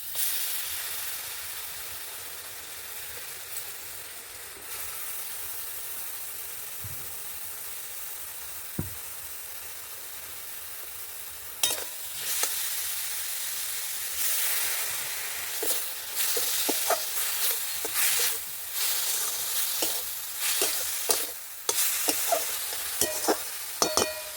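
Coconut and jaggery filling for palm-fruit kadam pitha is stirred in a hot pan. It gives off a steady sizzling hiss, and scraping stir strokes grow busier and louder in the second half. No one speaks.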